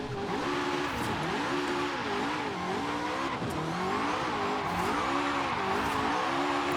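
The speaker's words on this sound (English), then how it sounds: "it sounds like a Ferrari V8" A Ferrari V8 engine drifting in Forza Horizon 5, revving up and down in continuous wavering sweeps as the throttle is worked through slides, with tyre noise underneath, loud and close.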